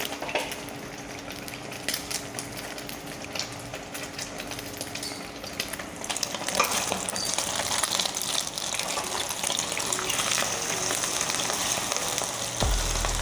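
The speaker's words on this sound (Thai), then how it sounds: "เจียวไข่ของเราให้เหลืองกรอบเลยนะคะ" Eggs fry in hot oil until golden and crispy for a Thai tom kha with egg and cha plu leaves, a steady close sizzle that grows louder and busier partway through, with no talking.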